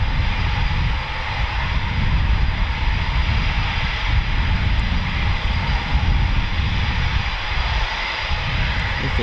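Eurofighter Typhoon FGR4 fighter jets take off at RAF Coningsby, a loud continuous roaring jet engine noise that holds steady and dominates throughout, with no talk.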